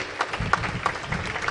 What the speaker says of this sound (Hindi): भाई तालियां बजा दो,